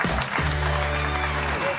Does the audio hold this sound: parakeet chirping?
no